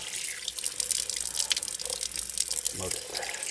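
Running tap water rinses soap off a guinea pig, a steady close splashing hiss with brief gurgles and drips near the end.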